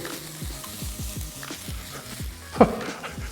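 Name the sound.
Thai green curry sizzling in the pan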